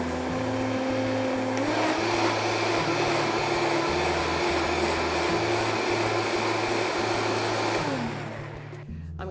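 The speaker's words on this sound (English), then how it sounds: "Put a lid on the blender, make sure there's a little air vent, and put a towel over the whole thing" A blender purees soup under a lid with a small air vent and a towel draped over it, roaring loud and steady, with its motor pitch stepping up as the speed increases, then winding down at the end.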